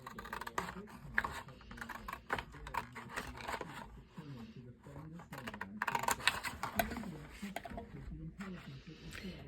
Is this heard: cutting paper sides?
yes